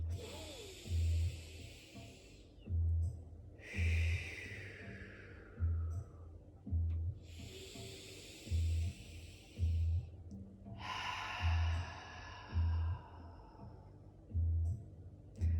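Several deep breaths taken slowly in turn, each long airy inhale and exhale clearly audible up close, over a steady low rhythmic pulsing in the background.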